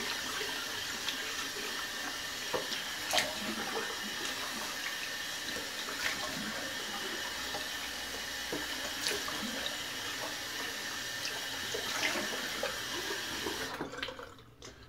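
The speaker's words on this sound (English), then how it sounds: "Go ahead and do a cold water rinse." A tap runs steadily for a cold water rinse after a barbershop shave, a close, even hiss of flowing water with faint clinks, cutting off abruptly near the end.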